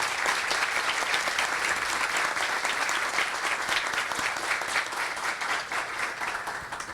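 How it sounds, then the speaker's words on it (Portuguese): An audience at a panel session of a customer-experience conference applauds, a dense, steady patter of many hands clapping that continues throughout and eases slightly toward the end. "gostaria de uma salva de palmas para agradecer o pessoal aqui."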